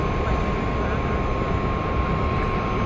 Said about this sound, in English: There's an EasyJet coming